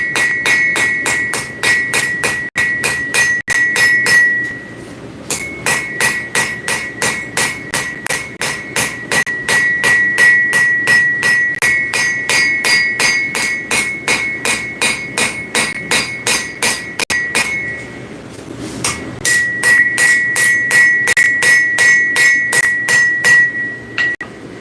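A hammer forges hot metal on an anvil in a workshop, striking in fast, steady ringing blows with a bright metallic tone, broken by a few short pauses before the rhythm resumes.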